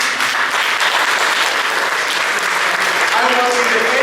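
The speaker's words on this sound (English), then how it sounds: "fully emerge to one more round of applause" Loud, sustained applause from a crowd at a presentation, dense clapping filling the whole stretch, with a voice starting to speak near the end.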